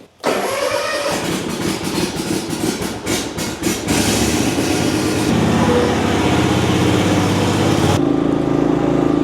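The engine of a Cub Cadet ZTX5 60-inch zero-turn lawn mower cranks with a rapid rhythmic chugging, catches, and settles into a loud, steady running drone close by, shifting pitch slightly as throttle changes.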